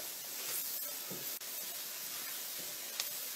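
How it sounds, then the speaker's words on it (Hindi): Onions sizzling and frying in a pan while cooking chicken tikka masala, a steady close hiss with faint crackles and no talking. "5 मिनट्स हो गए ऑनियन को फ्राई करते हुए।"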